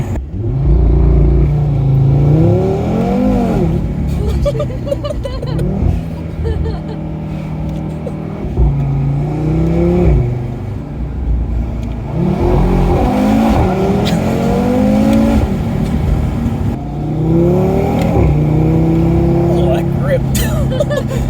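An Audi RS3 five-cylinder engine revs repeatedly with rolling anti-lag, loud and close, rising and falling in several bursts with popping crackles, while people talk over it.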